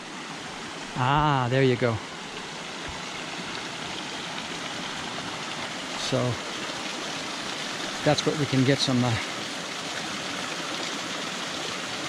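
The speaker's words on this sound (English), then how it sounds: "Little stream down here." A small mountain stream runs steadily along a trail on Mount Arjuno, its broadband rushing water continuous and near, with people speaking briefly over it at a few points.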